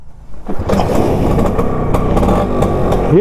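A Bajaj Super FE motorcycle engine catches with a single kick and starts right away, settling into a loud, close, chugging idle.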